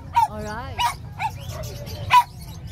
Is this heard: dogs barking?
yes